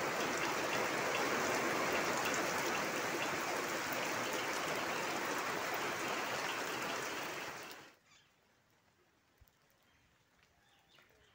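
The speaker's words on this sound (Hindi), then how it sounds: "बारिश बढ़ रहा है थोड़ा थोड़ा।" Steady rain pours down outdoors near farm fields under dense heavy clouds, growing gradually heavier, a dense, even hiss for about eight seconds that then stops abruptly and leaves near silence with a few faint ticks.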